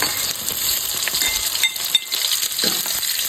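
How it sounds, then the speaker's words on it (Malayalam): Ginger, garlic and onion fry together in a pan for a bitter gourd curry, giving a close, continuous sizzle with scraping stirs and a few light metallic clinks, no talking. "ഇഞ്ചി വെളുത്തുള്ളി സവാള ഇത് മൂന്ന് ഒന്നിച്ചിട്ട് കൊടുക്കുക"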